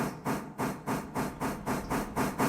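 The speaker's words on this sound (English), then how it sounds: "very seldom have I ever seen a train just start rolling on its own in game" A steam locomotive in Railroader begins to roll, giving regular chuffing bursts of steam about every quarter second, loud and close, with no voices over them.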